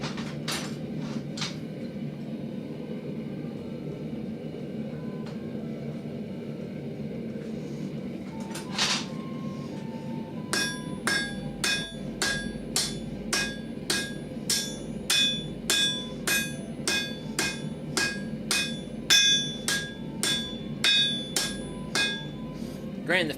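Ball peen hammer blows on hot steel while S-hooks are forged on an anvil: a few scattered strikes, then a long run of steady, ringing metallic taps, close and loud, over a constant low roar from the forge.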